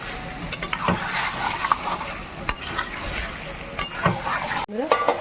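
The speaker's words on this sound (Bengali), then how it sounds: "পেঁয়াজটা ভাজা হবে।" Onions fry in a pan with a steady close sizzle, punctuated by repeated clinks and scrapes of a spoon stirring against the metal.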